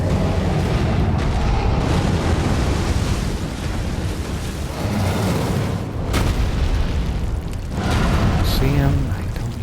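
Booming fiery blasts and roaring flames from the Fire Giant in Elden Ring fill the scene, loud and continuous with rumbling swells and a sharp burst near the end, voices faintly mixed in.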